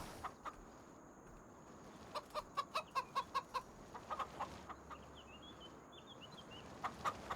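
Chickens in Farming Simulator 25 cluck in a quick rhythmic run of about eight notes, with scattered single clucks before and after, fairly faint with no talk.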